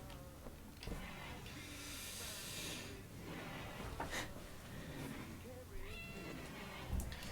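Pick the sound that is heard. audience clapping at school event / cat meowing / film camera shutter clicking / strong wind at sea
cat meowing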